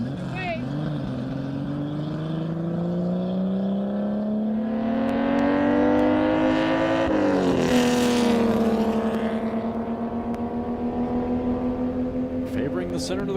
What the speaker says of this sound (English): car number 301, roaring to the finish line now